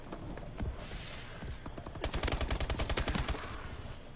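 Automatic gunfire rattles in Call of Duty: Advanced Warfare, with scattered shots giving way to a fast, steady machine-gun burst. It is loud and close, with no voices over it.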